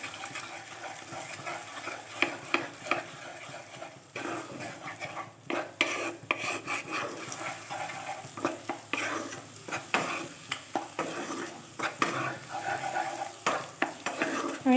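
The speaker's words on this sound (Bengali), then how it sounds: "তেলের মধ্যে 3টে ডিম ফাটিয়ে দিয়ে দিলাম, সামান্য একটু গোলমরিচ গুঁড়ো আর একটু নুন দিয়ে দিয়েছি। ভালো করে এটারে ভেজে নেব।" Three eggs fry in oil with pepper and salt, a continuous soft sizzle broken by repeated scraping and stirring clatters of a utensil against the pan.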